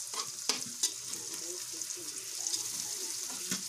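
Bitter gourd (ampalaya) with chicken egg frying in a pan: a steady sizzle with scraping stir strokes and occasional sharp knocks, close and continuous.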